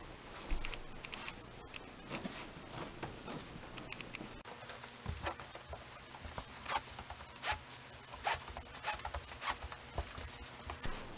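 Carpet being folded and rolled up by hand during carpet removal over a concrete subfloor, giving a steady run of close, rough rubbing and scraping sounds with brief crinkly bursts and no talking.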